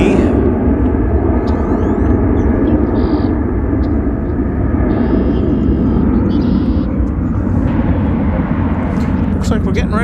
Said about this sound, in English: I'm a big fan of four-engined aircraft, as inefficient as they might be